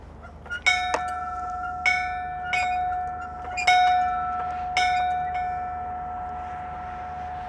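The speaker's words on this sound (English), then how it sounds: "this little sign says to ring the bell 5 times in memory of someone on this walkway" A memorial bell on a walkway is struck five times by hand, each clear ring sustaining and overlapping the previous one, then a long fading ring-out; near and loud.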